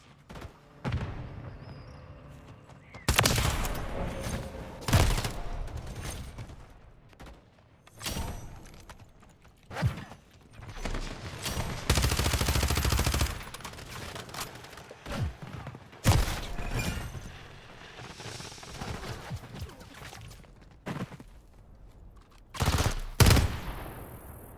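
Remote turret gunfire in Modern Warfare III: repeated loud bursts of automatic fire with sharp impacts, broken by short quiet gaps and continuing in waves throughout.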